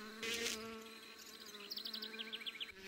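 Asian hornet (Vespa velutina) hovering in place beside a beehive, its steady high buzz wavering in pitch, with a louder burst early on and then a string of quick rising whines as wings shift, heard close and alone.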